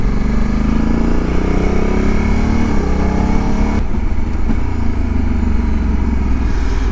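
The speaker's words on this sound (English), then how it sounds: "She's going down through the gears. Just sounds amazing." A Honda Africa Twin adventure motorcycle rides past, loud and close, its engine note sliding downward as it works down through the gears over a steady roar.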